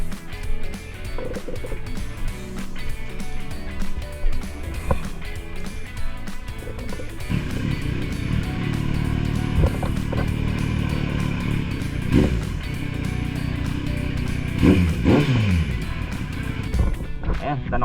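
A Kawasaki Z900 motorcycle engine idles and revs nearby, rising into louder throttle bursts, with voices and street noise mixed in.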